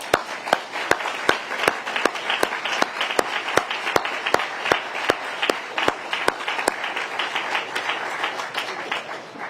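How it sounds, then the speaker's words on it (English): Applause for city employees and council members at a water plant commissioning ceremony, steady crowd clapping with a rhythmic series of loud, sharp claps close by, continuing for several seconds before tapering slightly. "Let's give them a round of applause."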